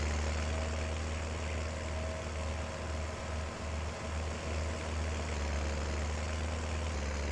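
In Farming Simulator 19, a small tractor's engine drones steadily and loudly under a heavy load while climbing a slope, a low continuous rumble with little variation and no talking.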